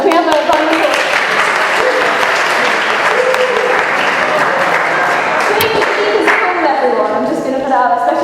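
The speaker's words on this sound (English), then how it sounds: "Can we have a round of applause?" An audience breaks into a dense, sustained round of applause in a hall, many hands clapping loudly and evenly throughout with no letup.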